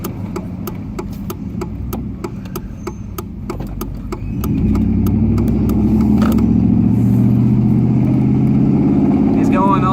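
A car engine drones steadily while driving as the driver eases off the gas, a low hum that thickens midway, with someone talking over it and sharp ticking clicks early on.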